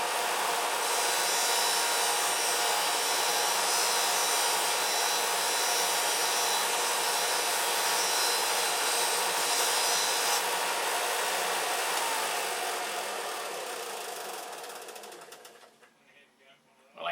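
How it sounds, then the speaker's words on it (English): Continuous abrasive rubbing of sandpaper or a sander on wood, loud and steady for most of the stretch, then tapering off near the end. "looks like I'm going to have to sand it all off there"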